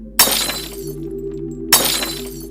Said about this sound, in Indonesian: suara pecahan piring menggema di tengah kesenyapan.